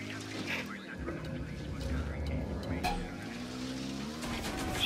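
Vehicle driving in Ghost Recon Wildlands, a steady engine drone with tire noise and occasional skids running throughout, with voices talking over it.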